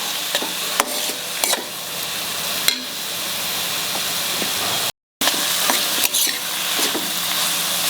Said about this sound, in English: Put in 2 chopped tomatoes, ripe ones. Fry it till tomatoes become soft.